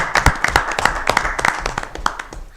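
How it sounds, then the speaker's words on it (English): Audience at a Town of Deer Lake council meeting applauds. The clapping is moderately loud and scattered, a quick patter of many hands that fills the room briefly without any speech over it. "we can give them a round of applause"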